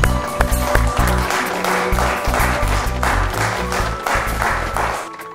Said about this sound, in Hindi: जोरदार करताली सहित आम तांको स्वागत जणेबा।